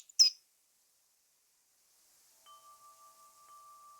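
A small pet bird called Cheep gives a single short, bright chirp near the start of a scene in The Book of Unwritten Tales 2, followed by silence and then a faint steady tone.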